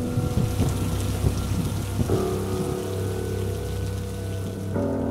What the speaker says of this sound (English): I heard peals of thunder and other tones which nature utters only in her wildest moods.